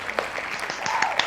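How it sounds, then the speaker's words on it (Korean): A lecture audience claps together after a talk on changing marital relationships in film, a brief burst of scattered hand claps at moderate volume with no speech over it. "오늘 강의 열심히 해주신 허진필 강사님께 큰 박수 한번 보내드리면 좋겠습니다."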